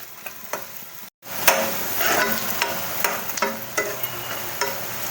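Onions frying and being stirred in a pan for methi chicken, with loud continuous sizzling and frequent scraping strokes of the spoon. A brief dropout comes early, then the sizzle returns close and steady.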